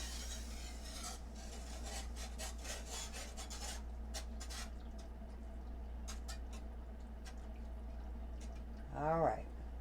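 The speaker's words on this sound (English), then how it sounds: "Keep whisking." Whisk scraping and rasping rhythmically against a pan as sauce for Swedish meatballs thickens, faint repeated strokes over a steady low hum, with a brief rising squeak near the end.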